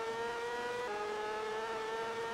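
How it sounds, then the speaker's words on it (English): A 125cc racing motorbike in the TT Superbikes game on the Castletown road course, its engine holding a steady high-pitched whine that dips slightly in pitch partway through, continuous and alone. "might have heard a small bit of revving"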